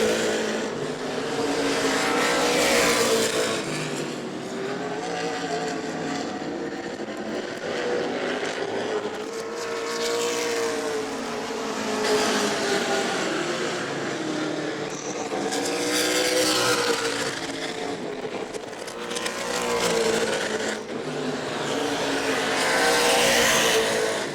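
Race cars lap an oval track at New Smyrna weekly racing, engines roaring and rising and falling in pitch as they pass in repeated waves, loud and sustained throughout.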